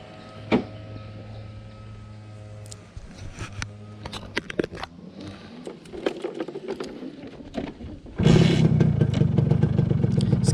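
Clicks and rattling precede a two-stroke motorcycle engine firing up on the first start, then a steady loud idle rumble takes over.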